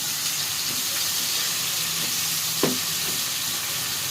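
Carrots sizzle steadily in a hot pan while being stir-fried for fried rice, a continuous close hiss with a faint clack of a spatula partway through.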